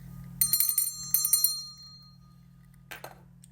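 Small bell rung in two quick bursts of bright, ringing strikes that fade out, then one softer final jingle, close and clear over a steady low hum.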